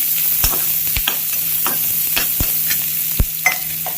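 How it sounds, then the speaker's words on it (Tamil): Onions and curry leaves sauté in a pan with a steady sizzle, broken by sharp spatula scrapes and taps against the metal at an irregular rhythm, close and loud with no talking. "வெங்காயமும் கருவேப்பிலையும் போட்டுக்கலாம். கொஞ்சம் வதங்கட்டும்."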